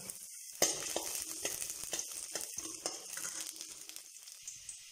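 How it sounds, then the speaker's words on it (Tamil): Chopped garlic drops into hot butter with a sudden hiss, then sizzles steadily and close, with occasional stirring scrapes. "பூண்டு வந்து நறுக்கி வச்சுருக்கேன் பொடியாக. இப்போ அதை போட்டுக்கலாம். இது நல்லா ஃப்ரை ஆகட்டும்."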